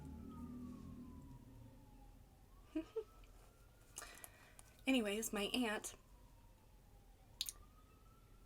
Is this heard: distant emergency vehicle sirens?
yes